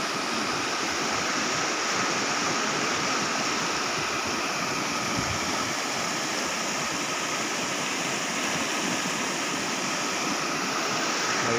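Floodwater rushes steadily over submerged rice paddy fields in a village, a loud, continuous broadband roar that stays constant throughout, with no voices.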